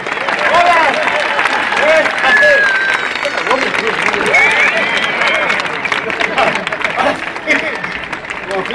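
A festival crowd at the Bilbao fiestas of 2015 claps and cheers loudly and steadily, while nearby voices shout over the applause.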